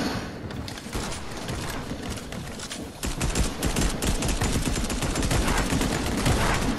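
Rapid, loud gunfire crackles continuously in a Fortnite match, with dense bursts of shots throughout. The firing grows heavier and punchier about halfway through, and no talk is heard over it.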